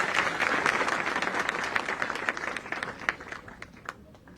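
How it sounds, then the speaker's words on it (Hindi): Audience applause at a government PM Vishwakarma scheme event in Jaipur, a steady wash of many hands clapping that fades slightly toward the end, heard alone without speech. "तालियां और गड़गड़ाहट बजनी चाहिए"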